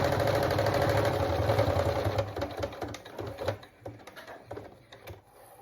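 A sewing machine runs a straight stitch down the middle of rickrack trim, whirring steadily and loud at first, then slowing into uneven bursts and separate stitch clicks before trailing off.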